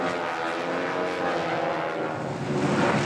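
Propeller aircraft in a diamond-formation team at the 1997 Oceana Air Show drone steadily overhead, a loud, continuous engine roar that swells slightly toward the end as the slot plane slides back into position.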